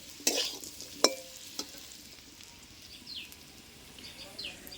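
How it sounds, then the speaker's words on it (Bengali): A few sharp clanks of a utensil against a pan over a faint, quiet sizzle of frying in oil. "দেখো এদিকটাতে আলু আমার ভাজা হয়েও গেছে"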